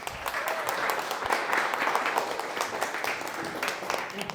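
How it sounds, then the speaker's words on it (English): An audience at a poetry reading claps for Utah's Poet Laureate, Lisa Bickmore, at Silver Reef, producing steady, moderately dense applause throughout. "please give a big warm round of applause to our Poet Laureate"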